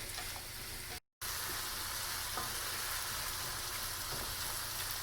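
Sliced zucchini fries in a pan over medium heat, giving a steady hiss and sizzle with occasional scraping from stirring, heard close with no talk, broken by a brief dropout near the start.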